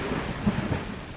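Steady rain and a low rumble of thunder in a video game, continuous soft hiss of rainfall with a brief deeper thump midway, moderately quiet and without voices.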